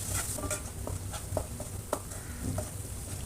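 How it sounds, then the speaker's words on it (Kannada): Coriander and cumin powder stirred in oil in a pan over a low flame, a soft steady sizzle under repeated scraping strokes and light clinks of a spoon against the pan, with no talking. "ಎಲ್ಲ ಎಣ್ಣೆಲೆ ಚೆನ್ನಾಗಿ ಹುರ್ಕೋಬೇಕು"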